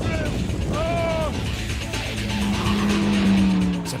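An Atom sports car races past up close, its loud engine note sweeping in pitch with a tyre squeal, then fading under the roar, all one continuous, dense burst.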